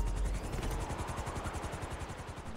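Helicopter hovering beside a skyscraper in GTA V, its rotor beating in a steady, fast, close thump that holds alone for the whole stretch.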